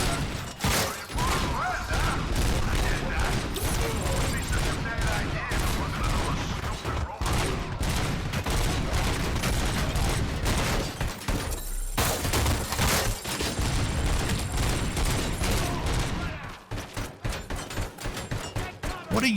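Dense, chaotic gunfire in the RoboCop: Rogue City video game, loud and nearly continuous with clattering mechanical impacts and shattering debris, a brief lull partway through, and voices mixed under the din.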